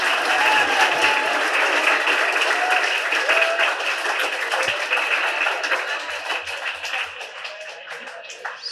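Sustained, loud audience applause fills a school auditorium after a Premchand Jayanti student drama staged for classes 5 to 10, a dense wash of clapping that fades slightly toward the end.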